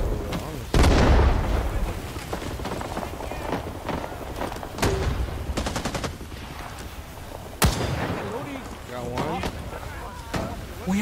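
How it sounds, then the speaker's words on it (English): Heavy booming blasts from a grenade launcher punctuate a Rising Storm firefight, one loud thump early and another sharp impact later, amid steady distant gunfire and a player talking over the action. "Oh, what was that? Oh, grenade launcher."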